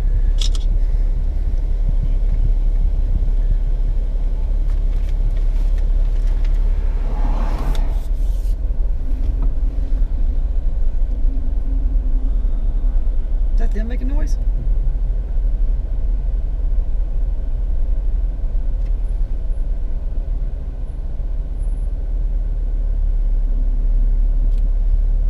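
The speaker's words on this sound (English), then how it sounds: "So this will be the last day in the Jeep driving through Yellowstone." A Jeep driving through Yellowstone, heard as a steady, loud engine rumble and road noise from inside the vehicle, with a couple of brief louder bumps or rattles along the way.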